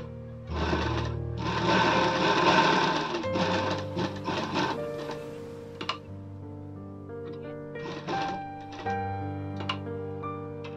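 Sewing machine stitching a princess-cut blouse, running in several bursts of rapid mechanical chatter separated by short pauses, close and fairly loud over a steady background hum.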